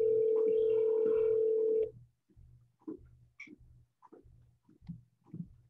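Telephone line during cold calls to real estate listing numbers: a loud steady dial tone holds for about two seconds, then a string of short, quieter beeps and clicks follows in an irregular rhythm.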